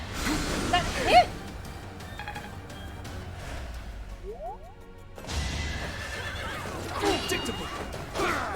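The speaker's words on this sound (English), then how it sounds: "Oh, the horse!" Horse whinnying in the video game Fire Emblem: Three Houses, a brief near neigh early on amid battle music and effects, with a voice talking over the game sound.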